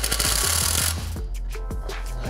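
A power drill whirs loudly for about a second, then cuts off, followed by a few light clicks and clinks of tools nearby, during crank gear removal on a Pontiac Sunfire 2.2L engine timing chain job.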